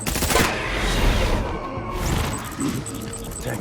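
Gunfire in the Death Stranding video game: loud bursts of shooting and impacts early on, then a sustained battle noise bed with scattered sharper cracks and a faint beeping tone.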